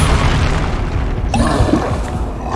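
A Confringo spell in Hogwarts Legacy bursts into a deep, rumbling fiery explosion that swells and then settles into a fading crackle, loud and close.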